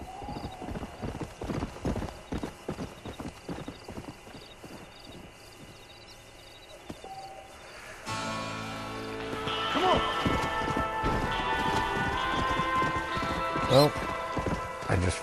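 Horse hooves clip-clop at a steady gallop in the western video game Red Dead Redemption, a rhythmic drumming that runs throughout, with an occasional whinny and faint rain-like patter behind it, joined by denser game music and effects partway through.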